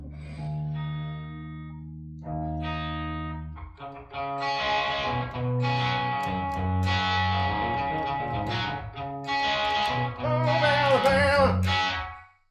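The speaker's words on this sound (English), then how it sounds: "that's a little spring reverb on that" Electric guitar through a Headrush Gigboard amp preset with a splashy spring reverb, sustained chords ringing out, then busier strummed and picked phrases.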